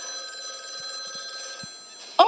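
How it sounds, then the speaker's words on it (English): Telephone ringing in a scene from the TV series LOST, a steady electronic ring tone held through the clip at moderate level, ending in a brief louder sound. "it is Jesus on the phone who wants to know what color car he wants"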